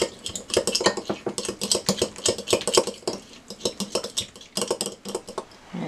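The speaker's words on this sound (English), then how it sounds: "I'm just going to mix that together" Black pepper and salt being whisked into a creamy cucumber and dill salad dressing, a quick run of close, bright utensil clinks and scrapes against a bowl in uneven bursts, with no talking.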